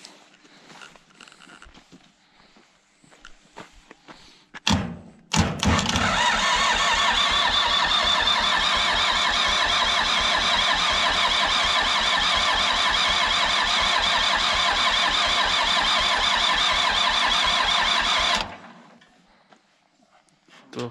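A Zetor 6911 tractor engine cranks briefly, then fires and catches, settling into a loud, steady close-up idle with a fast rhythmic diesel knock for about thirteen seconds before cutting off abruptly.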